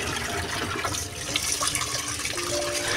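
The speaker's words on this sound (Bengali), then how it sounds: "এখনকার ডাল যতই ধুই না কেন" Dal lentils being washed in water, with steady splashing and running-water noise close by, continuous throughout with no talking.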